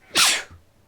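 A single sharp human sneeze, close and fairly loud, with a brief breathy tail and no other sound around it.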